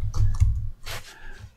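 Short bursts of key clicks on a computer keyboard, a quick cluster of taps followed by a few lighter presses, close and fairly quiet, with no talking.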